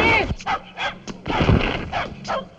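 A dog barks and yelps repeatedly in short, loud, close bursts during a scuffle, with shouting voices between the barks.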